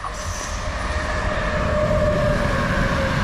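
A train rolls past close by outdoors near a castle, a loud rumbling roar with a high, sustained wheel squeal running through it.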